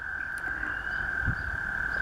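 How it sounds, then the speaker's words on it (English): Dozens of American toads trill together in a small pond in spring, a steady unbroken high chorus at moderate distance with a faint low thump partway through. "that's the American toad. There's dozens of them in this little pond, all singing at once."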